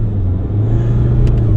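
Engine of a Mazda MX-5 Miata ND2 holds a loud, steady low rumble and whir, a car idling and revving up close throughout.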